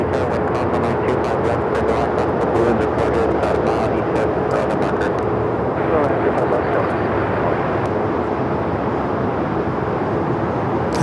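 A China Airlines Boeing 777 at LAX gives off a steady, broadband jet roar that holds strong for the whole stretch, with people talking over it throughout.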